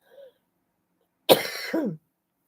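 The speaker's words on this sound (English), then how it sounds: "Just a sec, cough again." A single close cough, sharp and rough with a brief throaty tail, preceded by a faint short sound and surrounded by silence.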